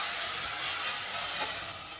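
Ginger garlic paste and onions sizzle and crackle steadily in a hot pan as they are stirred, a dense, continuous frying hiss close by.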